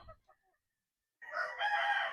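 A one-year-old Sweater Roundhead gamefowl rooster crows once, a loud drawn-out call after a brief quiet start with a couple of faint clucks.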